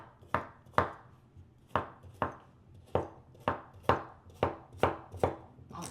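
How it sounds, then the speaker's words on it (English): A HexClad knife chopping a carrot on a cutting board, about a dozen crisp, evenly spaced chops heard up close with nothing else in the background. "Not digging into that apple, but digging into this carrot."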